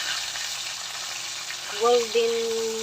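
Chicken pieces fry in oil in a home kitchen pot, a steady close sizzle running under the whole stretch, with a brief tonal clink or squeak near the end.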